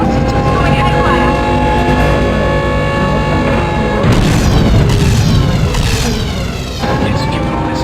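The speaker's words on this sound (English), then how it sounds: "That missile got the station." A missile strikes a space station in 007 Nightfire: a loud boom bursts in partway through over a steady droning, siren-like game score, with a second surge of blast noise shortly after.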